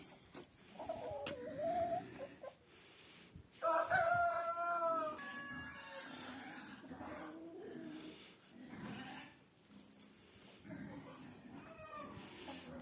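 A rooster crows nearby, a loud drawn-out call, with other faint animal and farmyard sounds around it and a voice at times.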